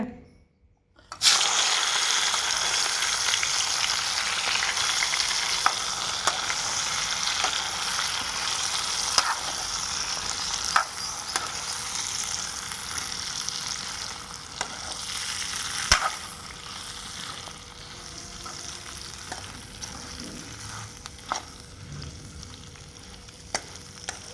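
Green chillies for pickle fry and are stirred in a pan, a steady loud sizzle throughout with occasional scraping clicks from the stirring.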